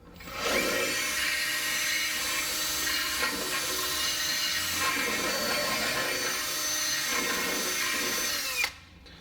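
A power drill spins a bit inside a hole to scour out rust, a steady loud whirring grind running nearly nine seconds with slight load variations before cutting off.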